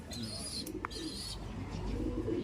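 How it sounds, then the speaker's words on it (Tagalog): Young pigeons from a linebred loft coo softly, with a brief chirp amid steady background noise, close and low in level, no talk over them. "Ang ganda ng mga young bird natin, oh."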